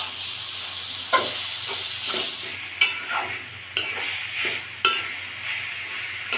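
Cabbage sizzles in a hot pan with dried chilli, bay leaf, cinnamon and cardamom while a spoon stirs it, producing a steady fry hiss broken by several sharp scraping stirs.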